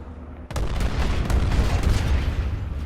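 A Lightning light tank in a PS4 game lets loose a dense, loud barrage that bursts in abruptly after a brief quieter lead-in and rolls on continuously as rapid overlapping blasts.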